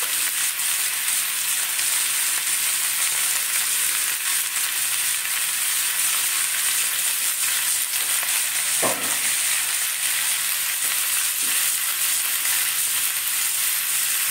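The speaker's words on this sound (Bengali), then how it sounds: "আলুটা দিয়ে আলু ভাজা যেমন হয় নুন দেবো," Potatoes frying in a pan, a dense, even hiss of sizzling oil that holds steady throughout, with a single sharp clunk of a utensil partway through.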